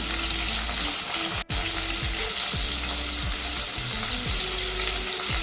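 Medium tomatoes frying with a little rock salt in a pan for sambar rice give a steady close sizzle. Repeated stirring scrapes recur throughout, with one momentary dropout, and there is no speech.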